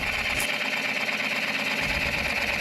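Wood lathe turning a live-edge locust bowl blank while a tenon shoulder is cut, giving a steady continuous machine hum and whir with a constant high tonal whine, close and unbroken throughout.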